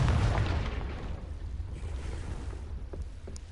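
A fiery Confringo blast spell in the game Hogwarts Legacy goes off as a loud low boom at the start, then fades into a long rumbling decay with faint crackles near the end.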